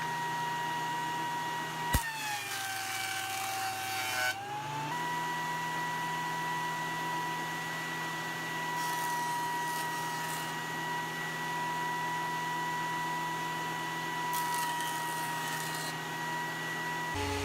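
Jointer straightening wooden fence pickets: a steady whining machine drone with a brief interruption and a sharp knock near the start, then continuous hum with faint cutting noise bursts.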